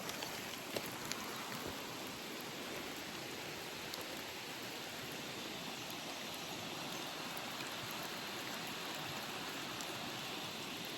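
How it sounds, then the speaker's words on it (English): A small creek flows steadily in the rainforest during rain on the Sunshine Coast hinterland, a continuous broadband wash of running water and falling rain at a fairly soft level. "It's a nice little creek just down here."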